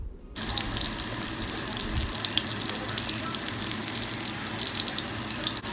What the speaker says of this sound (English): drop it gently onto the frying pan.